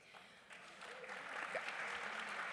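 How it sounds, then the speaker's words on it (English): An audience at the Savannah Book Festival keynote claps, starting faint and swelling into steady, fairly distant applause from a large hall. "You guys are being very generous with applause."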